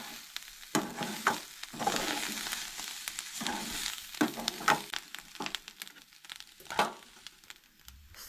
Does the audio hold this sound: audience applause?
no